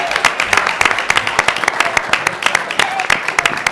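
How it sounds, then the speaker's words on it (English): An audience at a Board of Education meeting applauds, a steady patter of clapping with crisp individual claps, while a person speaks over it. "Let's give them another round of applause."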